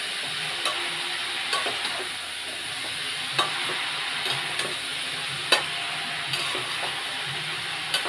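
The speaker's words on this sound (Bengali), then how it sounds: "এবার বাঁধাকপিটা একটু কষে নেব।" Cabbage stir-fries in a pan with spices and a fish head, a steady close sizzle broken by occasional sharp spatula taps and scrapes, with no talking.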